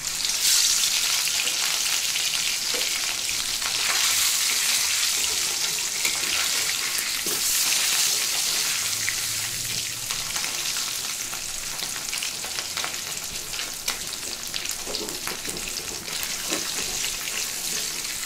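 Fish frying in a pan, a steady, dense crackling sizzle of hot oil that continues evenly throughout with faint occasional clinks.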